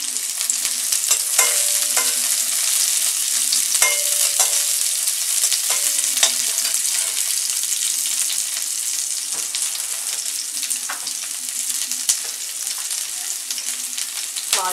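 Onion frying in a pan for sweet corn fried rice gives a loud, dense, continuous sizzle, close up, with a few scattered scrapes and taps of a spatula and no talking.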